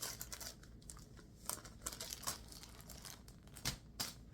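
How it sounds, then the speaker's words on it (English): Crinkling plastic or paper packaging being handled near a fabric wall, with repeated crisp crackles and a few sharper rustling bursts over several seconds, close and alone with no talking. "pardon my crinkling."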